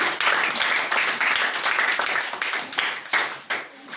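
A church congregation claps and applauds during worship, a dense, continuous wash of many hands, loud and close, with faint voices mixed in.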